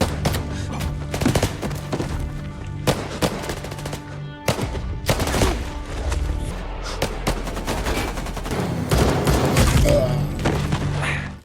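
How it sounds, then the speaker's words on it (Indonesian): Rapid bursts of gunfire crackle continuously, with thuds and booms layered in a dense, loud action-scene mix. "Sayang sekali, polisi yang membantu Sean harus tewas terkena tembakan"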